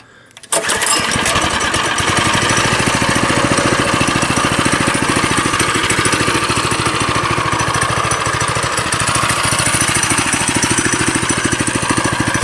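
Trailmaster MB200x mini bike engine cranks and catches after a short quiet start, then runs at a loud, steady idle with a rapid even putter, nearby and alone.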